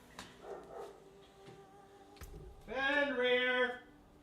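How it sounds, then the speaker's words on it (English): A pet dog named Fenrir barks indoors: scattered faint yips and knocks at first, then a sharper, louder cluster of barks near the end, somewhat distant from the microphone. "my fucking dog is barking"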